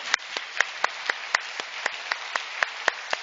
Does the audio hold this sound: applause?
yes